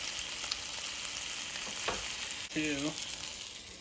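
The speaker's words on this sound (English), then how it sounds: "Thank you for watching me cook tilapia" Tilapia fillet with a garlic and herb coating frying in a pan with no oil, giving a steady soft sizzle throughout with a brief clatter near the end.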